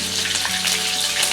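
Mustard seeds, cumin and green chilli sizzling in hot oil, a loud, close, steady frying hiss with faint crackles and no voices.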